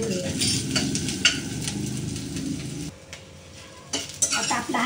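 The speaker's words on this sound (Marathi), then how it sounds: "कांदा टाकून चांगलासा भाजून घेऊया।" Onion sautés in a pan for a prawn gravy, a steady sizzle under scraping spoon strokes and metal clinks against the pan, with a brief quieter pause before the stirring resumes.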